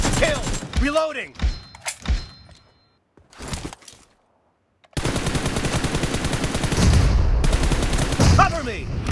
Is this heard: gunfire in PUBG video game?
yes